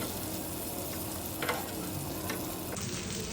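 Salmon fries in a pan with squeezed lemon juice, a soft, even sizzle with a couple of brief utensil scrapes, fairly quiet and with no one talking.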